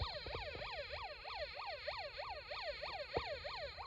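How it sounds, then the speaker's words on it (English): An electronic police siren from a Snap Circuits kit wails in fast, regular rising-and-falling sweeps, loud and steady, with a few sharp clicks near the start. "you hear a police car siren"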